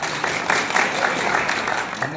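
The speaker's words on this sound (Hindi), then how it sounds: "इनके लिए एक बार जोरदार तालियां" Loud, continuous applause from a crowd at an anti-drug village panchayat gathering in Kalayat, sustained dense clapping for about two seconds.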